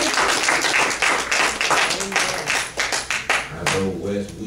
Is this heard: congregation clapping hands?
yes